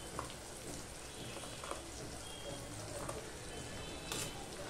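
Shrimp frying in a pan with a mustard, poppy seed, garlic and onion paste, giving a steady soft sizzle throughout with a few brief brighter crackles, no talking.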